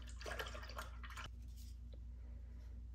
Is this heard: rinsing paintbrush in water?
yes